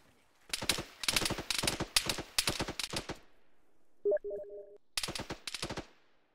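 Automatic gunfire in the Arma 3 military shooter, loud and close, coming in rapid bursts separated by short pauses, with a brief electronic beep between the volleys.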